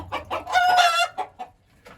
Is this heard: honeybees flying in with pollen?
no